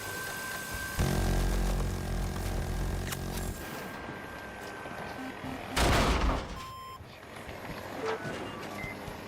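Rapid bursts of autocannon fire from the main gun of the Mav vehicle in Battlefield 2042: a long, loud, dense stretch of firing, then a second shorter burst, with other battle noise between.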